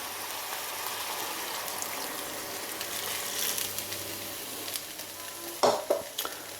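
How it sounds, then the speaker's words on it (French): Mushrooms simmer in about 150 ml of white wine in a pan for a creamy risotto, a steady close bubbling sizzle with a few louder clinks and stirring scrapes near the end. "je vais laisser cuire tranquillement les champignons dans le vin blanc"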